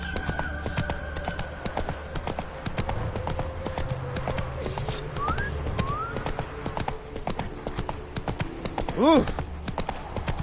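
Roach, the horse in The Witcher 3, gallops with steady rapid hoofbeats under game ambience and a voice, followed near the end by a short rising whinny.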